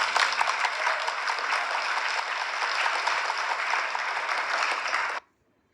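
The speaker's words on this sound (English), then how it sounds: "I just clicked on the image and I got the sound of the clapping" Clapping sound effect played by a phone app built in MIT App Inventor, a dense, even burst of recorded applause that holds steady for about five seconds and then cuts off abruptly into silence.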